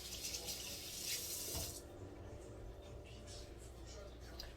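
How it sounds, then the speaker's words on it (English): Water runs from a kitchen tap as hands are washed beneath it, a soft hissing splash that is brighter for the first couple of seconds and then settles into a quieter, steady trickle. "Let me wash my hands."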